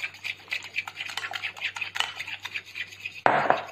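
Chicken marinade with garlic being mixed in a bowl, giving a steady run of close, rhythmic wet scraping and clicking, then ending in a louder, rougher scrape.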